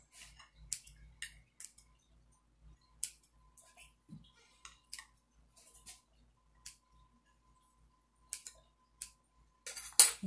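Scissors trim the excess crust around an apple pie in a plate, giving scattered sharp snips and ticks spread across the stretch, close and fairly quiet, with no talking.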